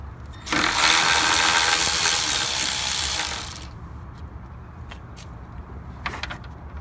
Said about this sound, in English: I'm going to take our Milwaukee battery operated cordless ratchet, and we're just going to unscrew it